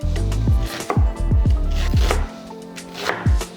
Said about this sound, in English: We're gonna go ahead and cut all the way around our onion